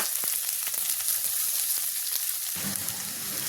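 Cauliflower frying in hot oil with cumin and green chili gives a steady, dense sizzle throughout, with small crackles and a slight shift in texture partway through as the pan contents settle.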